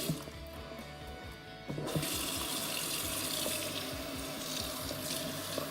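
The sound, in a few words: water running while rinsing hair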